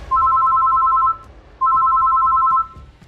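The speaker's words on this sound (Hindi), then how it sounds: "तभी मेरा फ़ोन बजा।" A phone rings loudly up close with two identical electronic trilling bursts, each about a second long, separated by a short pause, over quiet background.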